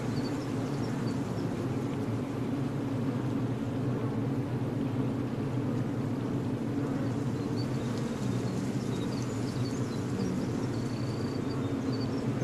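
Bees hum inside a hive in a steady, dense drone that holds evenly throughout, close and continuous with no voices.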